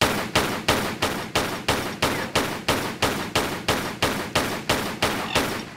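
Rapid, evenly spaced pistol shots from Lara's twin guns in Tomb Raider 3, about fifteen sharp cracks in a steady rhythm lasting several seconds, loud and close with no talking.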